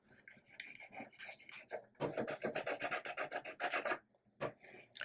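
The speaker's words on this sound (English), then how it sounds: "Now I want to really burnish that down." Leather burnished by rubbing a tool firmly over it for blingy football earrings, quick rhythmic rasping strokes in two close bursts with a short pause between, faint and near.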